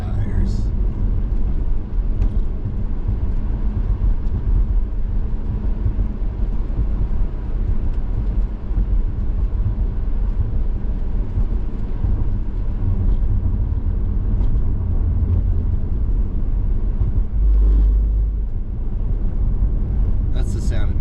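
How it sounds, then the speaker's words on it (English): A car's tires rumbling over the road center line while driving in snow, a continuous low, loud droning rumble that holds steady for the whole stretch, with a voice faintly present under it. "That's the sound it makes when you hit the center line"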